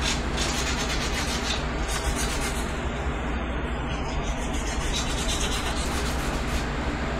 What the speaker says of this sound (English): just hand scuff everything. Get rid of this shine.